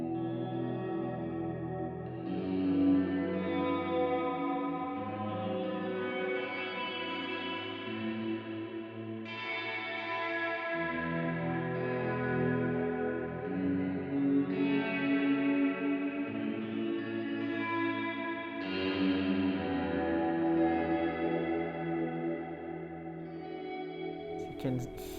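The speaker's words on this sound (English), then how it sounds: "the third preset I did was for a really kind of long atmospheric verb" A Chase Bliss CXM 1978 reverb pedal set to a long atmospheric hall preset with medium tank modulation washes over a played instrument, sustained notes blooming into a thick, lingering, shimmering tail that rises and swells across phrases, steady and alone.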